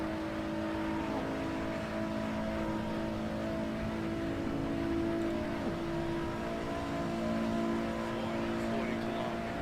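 Car in Shutoko Revival, a Tokyo highway racing game, held at high speed with a loud steady engine drone and wind roar, pitch wavering slightly, while someone talks over it.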